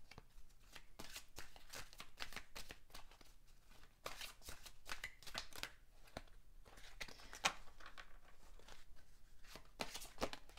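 Tarot cards being shuffled by hand in a quiet room, a steady run of soft riffling and slapping bursts for about ten seconds with no voices.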